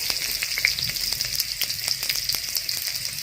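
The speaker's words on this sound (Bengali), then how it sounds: "এবার ছোট্ট একটা পেঁয়াজ কুচি দিয়ে দিচ্ছি" Chopped onion sizzles steadily in hot oil in a pan, cooked as the start of a fish curry with potato and cauliflower; a dense, continuous close frying crackle with small irregular pops throughout and no speech.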